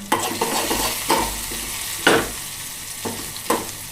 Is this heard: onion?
yes